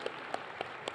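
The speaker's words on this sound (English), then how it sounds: "A round of applause for His Excellency, Secretary General Wamkele," An audience at a business forum applauds, with a few distinct claps standing out over a steady wash of hand-clapping noise.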